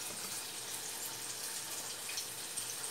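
Water runs from a tap into a container in a kitchen during a morning routine, producing a soft, steady splashing rush that continues at a constant low level with no voices.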